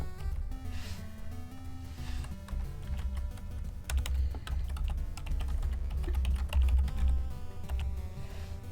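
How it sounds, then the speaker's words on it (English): Computer keyboard typing during a late-night retro game stream, steady clatter of keystrokes continuing for several seconds over a constant low background hum, close and fairly loud. "See if I can do this correctly with the typing."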